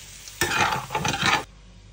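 Potato bhaji frying in a pan gets one brisk stir, about a second of scraping and sizzling up close, set between quieter stretches of low background with no talking.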